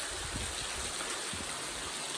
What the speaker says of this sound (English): It's quite noisy with the waterfalls